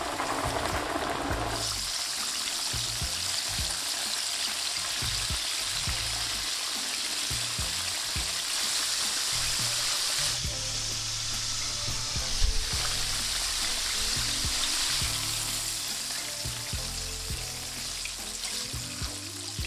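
Steady crackling sizzle of chicken tenders frying in hot oil, with occasional clinks and stirring sounds, close and continuous.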